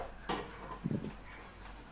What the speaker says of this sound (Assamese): এতিয়া গেছত দুটা কেৰাহী মই পাতি দিলোঁ।